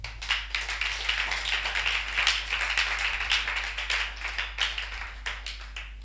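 A church congregation claps together in a steady rhythmic beat, with cheering voices mixed in under a constant low hum.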